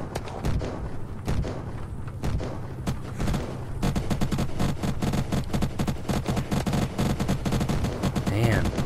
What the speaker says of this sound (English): sounds like a machine gun